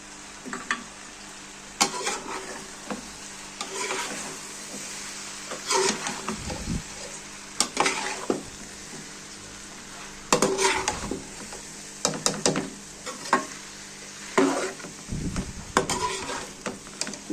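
Potato and carrot curry cooking in mustard oil with garam masala, a low steady sizzle broken by repeated scraping and clattering stirs of a spoon against the pot, fairly close.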